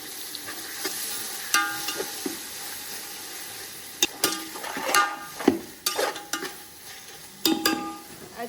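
Four tomatoes tumble into a sizzling chicken dum biryani masala of golden fried onions on a stove, giving a steady close frying hiss broken by sharp clatters and bursts of stirring, with no one talking.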